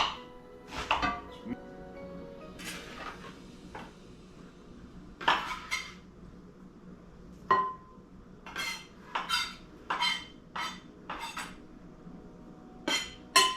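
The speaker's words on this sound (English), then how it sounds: "let's chop our onion real quick" A kitchen knife chopping an onion on a cutting board, an irregular series of sharp, close knocks and taps with brief pauses, accompanied by a few light clinks of dishes.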